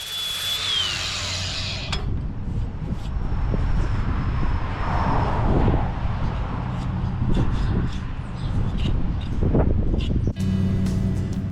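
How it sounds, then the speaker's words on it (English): An angle grinder fitted with a flap wheel shapes the shoulder of a hickory axe handle during an axe restoration, giving a loud continuous whirring drone that keeps going close up, with small shifts in pitch as the wheel works the wood. "Here I'm just using the grinder and the flapping wheel just to kind of work down the shoulder of the axe"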